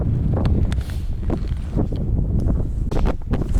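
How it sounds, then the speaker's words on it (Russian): A strong gust of wind on a high mountain trek toward Mera Peak roars loudly and steadily across the microphone, a dense buffeting rush with no voice. "Вот так идешь и бац, порыв ветра тебя с ног сдувает."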